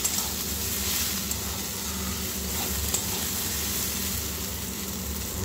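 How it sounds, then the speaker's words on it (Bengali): Crushed ginger and garlic fry in hot oil in a home kitchen pan, giving a loud continuous close sizzle with a few faint clinks of stirring and no talk. "এবার এটা দেওয়ার পরে একটু হালকা করে নাড়াচাড়া করে আমি একটু ভেজে নেব, যাতে আদা রসুনের কাঁচা গন্ধটা চলে যায়।"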